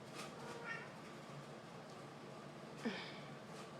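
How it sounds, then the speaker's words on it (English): Indoor cats meow faintly in the background as they chase a bug, with a couple of short, soft calls standing out against steady room noise. "apparently the cats have found a bug"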